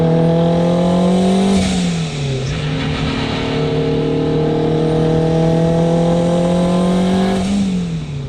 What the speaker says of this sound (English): So we'll just do some like spirited driving here, partial throttle stuff.